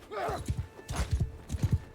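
Horse hooves clip-clop in quick, rhythmic groups of galloping beats in the medieval combat game Mount & Blade II: Bannerlord, close and fairly loud, with a brief whinny-like tone at the start.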